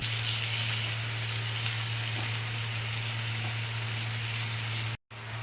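Tomatoes with salt sizzle steadily in a pan, an even, hissing fry with a low background hum, cutting out briefly near the end.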